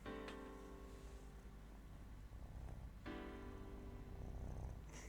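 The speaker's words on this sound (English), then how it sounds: "I don't know if you can hear him purr." A cat purrs softly and steadily up close in a quiet room, a low continuous rumble with no one talking over it.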